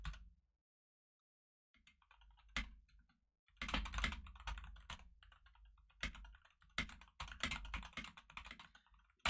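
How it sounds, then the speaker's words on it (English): Computer keyboard typing during a live stream, quiet bursts of clacking keys arriving in irregular clusters separated by short silences, with no voices. "You can hear the keyboard clacking away on stream."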